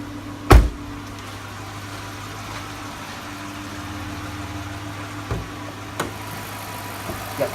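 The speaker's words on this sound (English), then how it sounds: "let you listen and see this Hemi engine up close and personal" A 5.7-liter Hemi V8 in a 2014 Dodge Charger R/T idles with a steady low hum, heard up close under the open hood, with a few sharp clicks and knocks.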